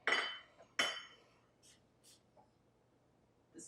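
A cup or mug in a kitchen knocks against other kitchenware, giving two sharp, fairly quiet clinks close together, followed by softer faint taps, with a person talking around them.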